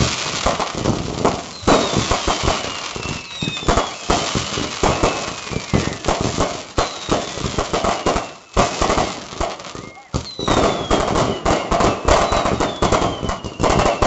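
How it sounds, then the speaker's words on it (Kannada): Loud fireworks pop and crack in dense volleys at a police sports meet closing ceremony in Bidar, with several whistling rockets streaking up and a brief lull midway. "ನೋಡಿ ಆನಂದಿಸೋಣ ಪಟಾಕಿ ಉತ್ಸವನವ"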